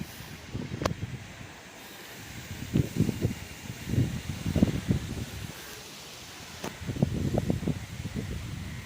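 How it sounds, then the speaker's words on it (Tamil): Gusty cyclone wind in Chennai roars in uneven surges, rising and falling over steady broadband noise, with buffeting bursts throughout. "காற்று எப்படி அடிக்க பாருங்கள் சரியான காற்று அடிச்சுட்டுருக்கு"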